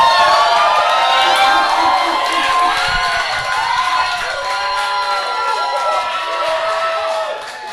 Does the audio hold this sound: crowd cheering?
yes